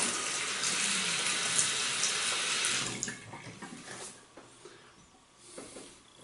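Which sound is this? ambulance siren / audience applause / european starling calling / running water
running water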